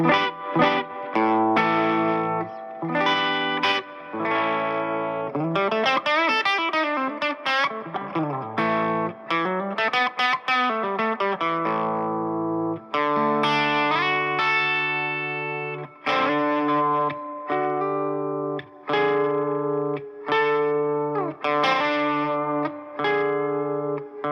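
An electric guitar through a Boss Blues Driver overdrive pedal, guitar volume turned down, plays a lightly driven continuous melodic passage with bends and slides, warm and slightly gritty, for over twenty seconds without any voices.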